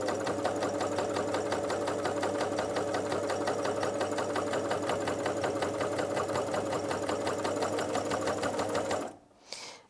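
Janome CoverPro 3000 coverstitch sewing machine stitching at steady high speed, a dense continuous mechanical whir with rapid rhythmic needle clatter, close and loud, stopping abruptly near the end.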